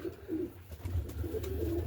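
Roller pigeons coo in a loft at night during feeding, with a steady run of low, soft, rolling coos that continue through the whole stretch at close range.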